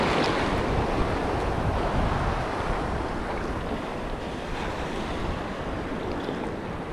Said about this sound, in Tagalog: So ayan, nandito na tayo sa may mga alon,